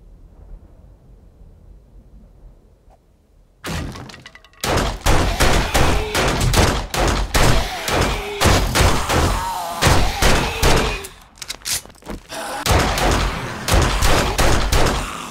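Pistol gunfire in the zombie survival video game 7 Days To Die, Alpha 19: after a quiet start, a loud, close run of rapid shots with a brief pause partway through, then more shooting.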